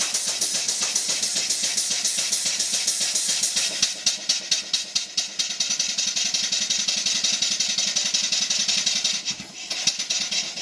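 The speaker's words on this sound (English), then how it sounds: "the air is actually coming out the bottom of there." Air hisses steadily and fairly loudly from the cylinder drain valves of a model marine steam engine, with a broad continuous rush broken by a run of rapid rhythmic chuffing pulses midway and a brief dip near the end.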